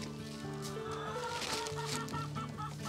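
Layer chickens in a chicken house cluck steadily and continuously, several birds close by with overlapping calls and no talking.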